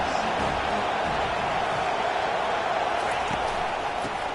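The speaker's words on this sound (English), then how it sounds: "this crowd is turning it up a notch" Football stadium crowd roaring in a steady, dense wash of cheering noise that holds loud throughout, with faint voices mixed in.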